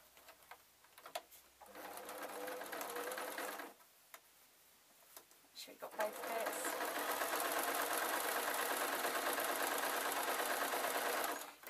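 A sewing machine stitching a felt rag doll: a buzzing motor run, a pause, a short burst, then a longer, louder continuous whir of stitching, close up.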